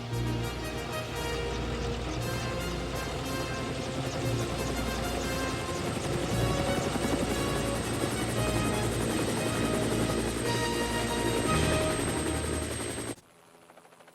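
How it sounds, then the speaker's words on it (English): A helicopter's rotor thrums loudly and steadily for several seconds under a busy musical backdrop, then cuts off abruptly near the end. "Harold the helicopter flies the sky, making sure that no one is in trouble."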